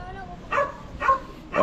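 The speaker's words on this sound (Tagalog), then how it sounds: "ang ingay ng aso" A dog barks three times in a steady rhythm, each bark short and fairly close, with quiet background in between.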